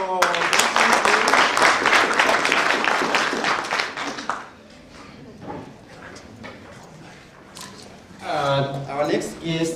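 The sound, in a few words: audience clapping for next guest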